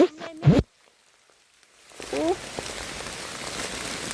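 Rain patters steadily and softly on surfaces outdoors during mushroom picking, after a brief burst of voices at the start, with a louder rustle partway through.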